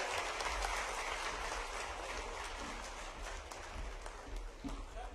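A ceremony audience applauds in a broad, steady patter of clapping that sounds fairly distant and low in level, with no speech over it.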